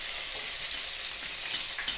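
Chopped garlic frying in hot oil gives a close, steady, dense sizzle that holds evenly for the whole two seconds, with no talking.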